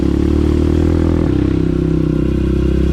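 A motorcycle engine drones loudly and steadily as the bike climbs uphill on a trail, with rough clattering and scraping mixed in.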